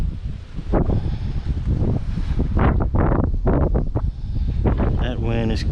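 Wind buffets the microphone on a boat during crappie fishing, a steady rough rumble that runs underneath people talking.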